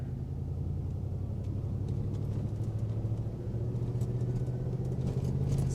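A Cadillac Escalade driving slowly in first gear gives a steady low engine rumble and road drone from inside the cabin, with faint ticking and knocks over the top.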